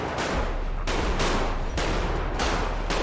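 Rapid bursts of gunfire crackle at a video game firing range during a police roleplay session, three or four loud volleys separated by brief gaps, with no talk over them.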